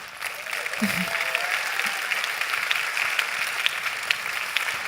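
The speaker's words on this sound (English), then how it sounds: "Can I please have a warm applause?" Warm audience applause at the Global Seedstars Summit 2017 welcoming Alexander Galitsky, a steady wash of clapping throughout with a brief low murmur near the start.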